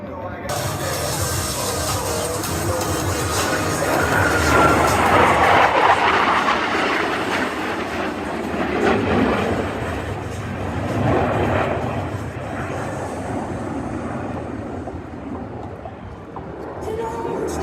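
Blue Angels US Navy jets, Angels 5 and 6, streak past the flight line at 400 miles per hour during an airshow at Seymour Johnson Air Force Base, a broad roar swelling to a peak, then rumbling and fading away.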